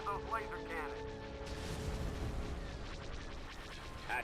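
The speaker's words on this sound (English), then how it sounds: "Fire on those laser cannons." Laser cannons fire in a Star Wars battle game, a faint, dense barrage of blasts and booming impacts rolling continuously beneath an ongoing musical drone.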